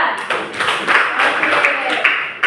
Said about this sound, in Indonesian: terima kasih tepuk tangan buat teman kalian.